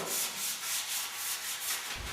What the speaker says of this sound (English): We sand the V-brace to remove some surface rust.